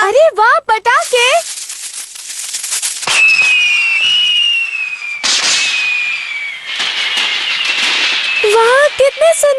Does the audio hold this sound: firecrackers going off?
yes